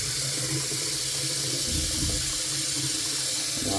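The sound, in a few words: shower water running from Navien-heated tap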